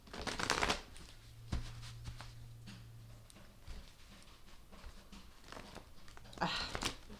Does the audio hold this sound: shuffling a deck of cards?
yes